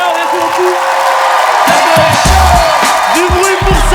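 Audience at a French comedy show cheers, whoops and applauds loudly and continuously, a dense crowd roar with a voice speaking over it near the end.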